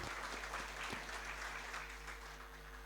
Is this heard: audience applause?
yes